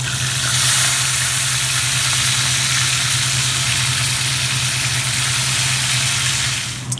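Yellowtail snapper fries in hot oil with an even, continuous sizzle, accompanied by a low steady hum from a nearby appliance and no talking.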